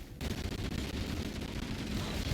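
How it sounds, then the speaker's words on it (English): Dense gunfire crackles through a Halo: Campaign Evolved battle as a continuous, loud wash of rapid shots and bursts with no pauses. "Or at least anytime there's a significant amount of gunfire happening."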